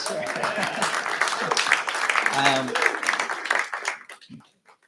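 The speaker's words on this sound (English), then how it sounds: "You can give a round of applause for that" A church congregation at a family service claps in a round of applause, a dense patter of hands mixed with voices talking over it, tapering off toward the end.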